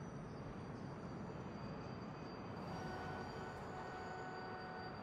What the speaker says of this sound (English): This is the E train. The next stop is San Quentin Avenue Station.